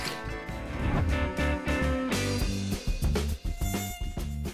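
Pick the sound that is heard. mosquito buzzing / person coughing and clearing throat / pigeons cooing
mosquito buzzing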